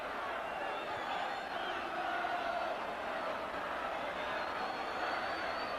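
Home football crowd at a Halifax Town versus Tottenham Hotspur Milk Cup tie cheering after a goal, a steady, broad roar held at even loudness throughout, with no talk over it.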